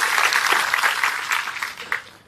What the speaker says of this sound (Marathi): याबद्दल तुमच्या टाळ्या होत्या.